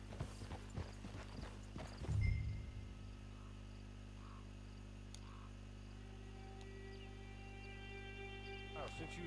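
Hollow clip-clop of horse hooves on hard ground in Red Dead Redemption Online, a short burst of steps up close, then steady low hum with faint insect chirps.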